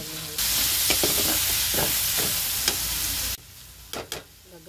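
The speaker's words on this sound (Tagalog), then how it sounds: "Ito yung karne. Ayan, haluan natin." Pork frying with onions and lots of tomatoes for bagoong alamang, a loud continuous sizzle with scraping stirs of a spoon in the pan, then the heat drops away to a quieter stretch with a few clinks near the end.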